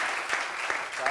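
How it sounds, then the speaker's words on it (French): A brief burst of clapping from a small group, crackling under a voice that speaks over it. "Ça s'applaudit, ça s'applaudit."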